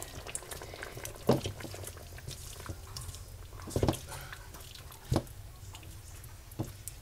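Pork chops simmering in broth in a covered pot, a soft steady bubbling with a few louder pops and blips spaced a couple of seconds apart, no talking.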